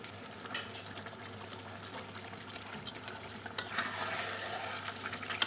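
Meat being stir-fried with garam masala powder in a pan, a soft, steady sizzle with scraping stirring strokes, quiet and close, growing brighter and busier toward the end.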